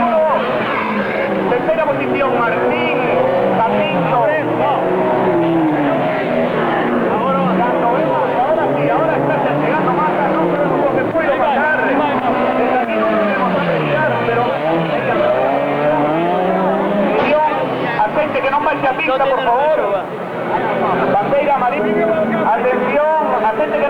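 Autocross race cars roar continuously at a 2001 Galician championship event, engines revving and shifting loudly with tire noise, while a commentator talks over the racing throughout.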